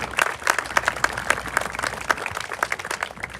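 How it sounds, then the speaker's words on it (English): An audience at a middle school groundbreaking ceremony gives a round of applause, with crisp individual claps standing out from the crowd, fairly close and lively. "Give them a round of applause"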